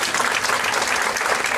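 Dense, steady audience applause at a live show, a continuous wash of many hands clapping with no voices on top.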